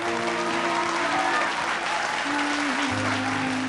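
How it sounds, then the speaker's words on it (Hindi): Studio audience applause on a Zee TV show, steady and loud throughout, with a faint musical tone sustained underneath. "जोरदार तालियां हो जाएं।"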